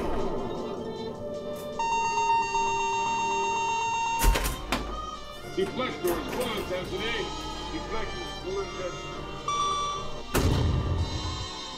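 Photon torpedo firing effect from a custom sound board for a Bally Star Trek pinball machine, heard as two sharp electronic bursts among bleeping tones and musical synth effects, with a voice also speaking.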